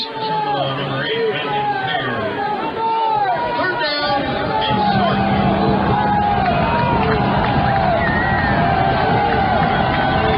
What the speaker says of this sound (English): Crowd starting to make some noise here.